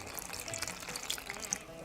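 Water poured from a cup into a bowl of cornflour, chili powder and salt for veggie burger batter, heard as a soft, continuous, faint splashing trickle.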